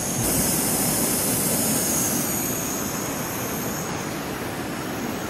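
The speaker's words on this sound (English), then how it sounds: "So, just like that, you're boiling water." A camping gas stove roars in a steady, close, uniform hiss as it burns under water being brought to the boil.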